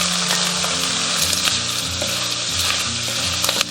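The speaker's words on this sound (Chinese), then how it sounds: "然后下五花肉煸炒。" Pork belly sizzles and spatters steadily in a hot oiled wok while being stir-fried, with continuous loud frying crackle and the occasional scrape of stirring, close up and without voices.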